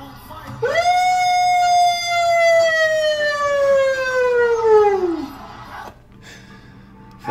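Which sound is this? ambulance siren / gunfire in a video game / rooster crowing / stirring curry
ambulance siren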